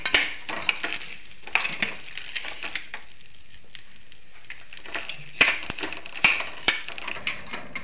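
Sesame seeds toss and crackle in a hot pan while roasting for a peanut chutney, with light sizzling and intermittent sharp scraping stirs of a spoon against the pan, close and without talk.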